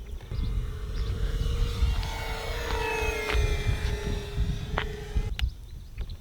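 An Avios Twin Otter RC airplane with twin propeller engines, running on a 4S 2200 mAh battery, flies past with a steady, close, high-pitched propeller buzz. The buzz holds for about five seconds, then cuts off abruptly.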